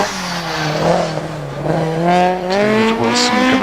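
A Peugeot 205 rally car at the Prescott hillclimb revs hard and loud, its engine note climbing through the gears in steady rising tones with a brief dip between shifts.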